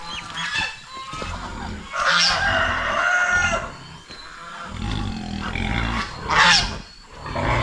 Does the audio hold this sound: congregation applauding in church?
no